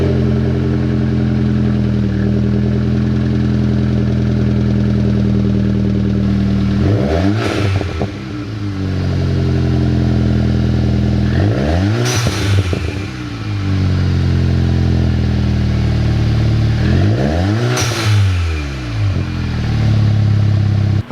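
Stock VW MK7 GTI revving in place before an APR downpipe install: a steady idle broken by three sharp blips, each rising quickly and falling back, loud and close with no talk.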